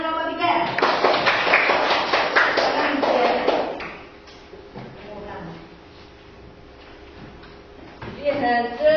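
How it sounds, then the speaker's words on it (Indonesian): A classroom of students performs a rhythmic clapping pattern together, sharp in-unison claps for several seconds that stop abruptly, leaving quiet room tone with faint murmurs before voices rise at the end. "Tepuk tangan nomor 3."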